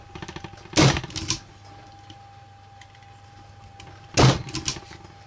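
Two sharp, loud mechanical crunches about three seconds apart as a Crop-A-Dile hole punch bites through a thick stack of paper, each followed by a short rattle, over a quiet background hum.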